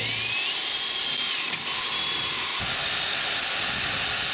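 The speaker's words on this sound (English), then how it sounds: "Now I'll use the striker as a template and drill a hole" A loud, continuous high-pitched power drill whine with a hissing edge, boring a hole through a door strike plate into a door frame, briefly dipping in pitch midway before steadying again.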